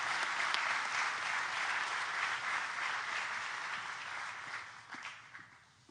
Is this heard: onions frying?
no